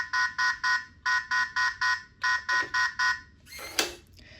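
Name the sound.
Philips Easy Key Alpha door lock forced-entry alarm beeping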